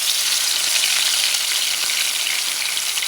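A sea bass fillet sizzles in hot oil in a frying pan, a loud, dense, continuous frying hiss up close with no talking.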